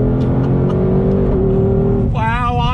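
A 2020 Ford Shelby GT500 pulls hard on throttle, its loud engine note rising steadily in pitch and then climbing sharply into a higher rev band near the end, close and continuous.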